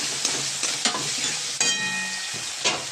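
A spiced mixture frying in a pan after ghee is added, with a steady close hiss of sizzling broken by several sharp clinks and scrapes of a spoon stirring, no talking.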